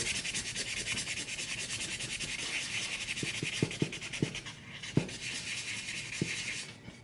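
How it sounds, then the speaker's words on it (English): Sandpaper rubbing back and forth over a wood-burned design to remove it, a steady close scratchy rasp throughout with a few sharper knocks near the end. "so we'll try to get rid of this one, the sandpaper."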